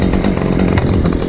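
Chainsaw running during firewood processing, started up after two weeks idle; a loud, close, continuous engine roar with a slightly rough, pulsing idle throughout.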